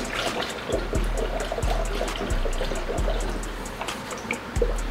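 Coolant pours steadily into a car radiator being filled on a Lexus IS300, with a trickling wash and regular low glugging thumps about once a second.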